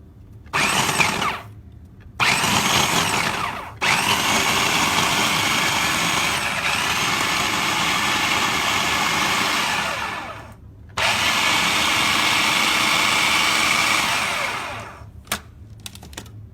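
A blender whirs through cold butter for strawberry shortcake dough in several loud bursts, short pulses at first and then two long continuous runs, with brief silences between them.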